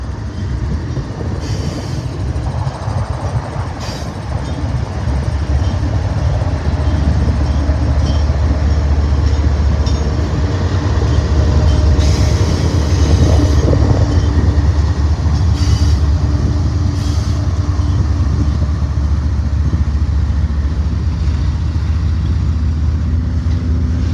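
A BNSF freight train rolls past close by, its deep steady rumble and rail noise holding loud and continuous throughout, with faint wheel clatter and squeal above it.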